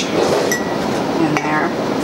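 Glass jars are filled with a rice substrate for cordyceps mushroom cultivation, with a couple of light, bright clinks of glass over a steady background while someone talks.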